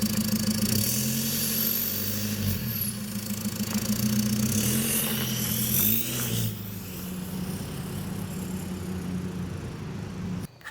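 A tuned Chevrolet Colorado ZR2 with a Duramax four-cylinder diesel, downpipe and aftermarket exhaust with muffler, drones steadily while driving, a low rumbling exhaust note with slight rises and falls in revs, close and continuous.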